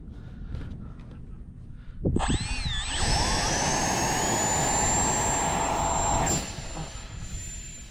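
An electric ducted fan Dolphin jet trainer RC model aircraft spools up to a loud, steady, high whine that holds for several seconds before easing off, heard fairly close outdoors over light background noise on a cloudy day.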